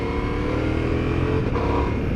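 A 2021 Ducati Multistrada V4 motorcycle engine revs under way, a dense, steady mid-pitched growl with rapid pulsing firing that holds close and loud throughout with no talk over it.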